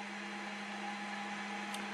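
Snapmaker 2.0 A150 3D printer running its auto calibration routine, a steady motor hum with a constant tonal whine, continuous and fairly quiet, with one brief higher-pitched chirp near the end.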